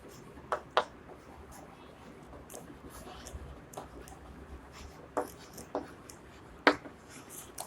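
Pen or marker strokes scratch across paper or a board during a class 8 percentage maths lesson, soft intermittent scratches with a few sharper taps, quiet over faint room noise.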